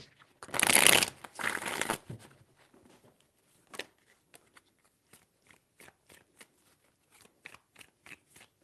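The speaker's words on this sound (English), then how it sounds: "Three shuffles." Tarot cards being shuffled, two quick riffling bursts followed by a string of soft, scattered taps and flicks of cards being handled.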